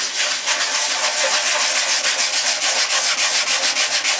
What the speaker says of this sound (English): Just go gently with this really sharp 320 grit, just coming in and just taking